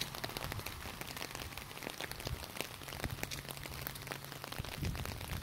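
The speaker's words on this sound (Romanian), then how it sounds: "auzeam doar ploaia care bate în umbrelă" Rain beats on an umbrella during a walk near a monastery, a dense, close patter of drops tapping the fabric continuously, with no one speaking.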